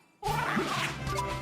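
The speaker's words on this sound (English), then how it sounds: "Look at our kitty. He's such a cute kitty." A cat meows in the video game Ni No Kuni: Wrath of the White Witch, a sudden bright cry that starts abruptly and holds for over a second over game background sound.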